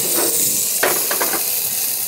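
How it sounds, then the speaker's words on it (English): Gyoza dumplings fry over a campfire pit with a loud, continuous hiss and sizzle, punctuated by a few sharper crackling bursts, with no voices. "now frying the gyoza"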